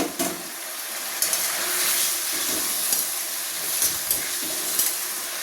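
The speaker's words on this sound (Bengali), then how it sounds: "আমি এবারে দিয়ে দিচ্ছি সেদ্ধ করে রাখা আলুগুলো, দিয়ে বেশ খানিকক্ষণ আমি এটাকে কষাতে থাকবো।" Boiled potatoes sautéed in a pan for a potato and egg curry: a steady hissing sizzle runs throughout, punctuated by several brief spoon scrapes and taps, with no speech.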